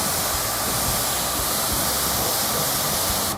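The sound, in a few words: pressure washer short trigger gun spraying water without nozzle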